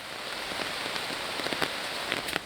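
Rain falls in a steady soft patter, with scattered nearby drops tapping on a surface, moderately quiet and continuous.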